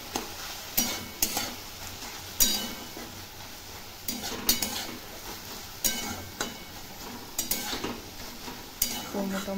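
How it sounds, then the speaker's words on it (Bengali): Water spinach (kalmi shak) fries in a pan after its water has cooked off, a low steady sizzle broken by repeated sharp clinks and scrapes of a spatula stirring against the metal. "ভালো করে ভেজে নিচ্ছি।"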